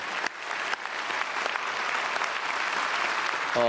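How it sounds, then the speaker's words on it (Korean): A church congregation at a special dawn service claps for a visiting denominational general assembly moderator: a short, even wash of applause, moderately quiet and steady, with a brief tonal sound entering just at the end. "박수하겠습니다"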